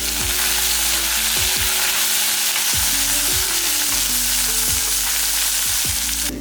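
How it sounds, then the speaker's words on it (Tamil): Small onions sauté in hot oil for a South Indian vatha kuzhambu, giving a steady, loud sizzle throughout with repeated stirring scrapes and clacks of a spoon against the pan. "வெங்காயம்லாம் இந்த அளவுக்கு நல்லா வதங்கிடுச்சு"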